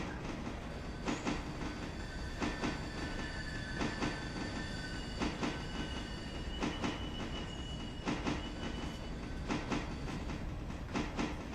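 A freight train rolls steadily in the Railroader game, its wheels beating out a regular clickety-clack with sustained squealing tones from the cars running over the rails. No voices are heard.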